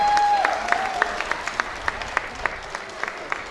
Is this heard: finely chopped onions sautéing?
no